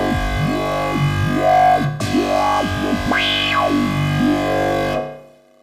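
A synth patch built in Reason 7.1, with a harmonically rich, distorted tone whose pitch sweeps up and down in smooth modulated glides. It sounds loud and alone, with a brief gap near the middle, then stops abruptly before the end.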